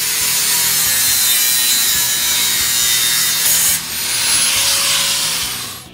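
A saw cuts straight across a model track section during a track switch install, a loud continuous rasping drone that pauses briefly near the end and then resumes before fading out.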